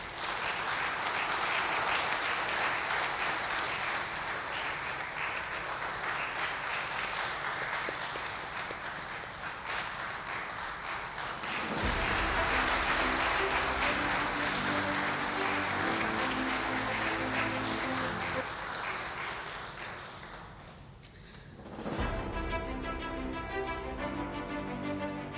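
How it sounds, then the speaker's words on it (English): Audience at a book launch applauds steadily for about twenty seconds, the clapping thinning and fading near the end before a brief renewed patter with a faint ticking rhythm underneath. "A round of applause, please."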